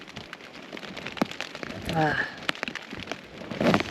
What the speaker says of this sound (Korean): 자려고 정리를 하다가 갑자기 비가 떨어지네요.